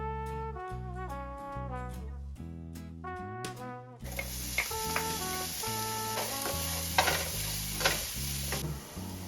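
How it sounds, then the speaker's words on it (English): Garlic and ginger hit a pan of finely diced onion and sizzle in a continuous crackling hiss, with music playing underneath that runs on its own for the first few seconds. "now we're gonna add in our garlic and ginger"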